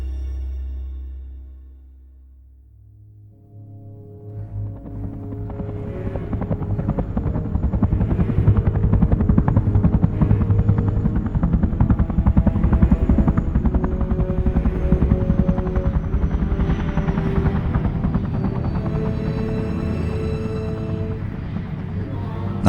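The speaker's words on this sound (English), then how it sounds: "I stumbled out of the helicopter" Helicopter in a forest setting, rotor thumping rising from a low idle into a loud, steady rapid beat that holds for many seconds with a whining turbine tone above.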